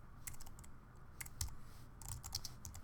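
Keys clatter on a computer keyboard in quick, uneven bursts of typing, close and fairly quiet, with brief pauses between clusters of keystrokes.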